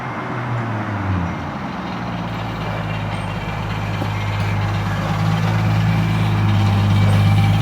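A Nissan 240SX engine running loud with the clutch in, a steady low droning rumble with a strong hum that holds and gradually grows slightly louder over several seconds, close by.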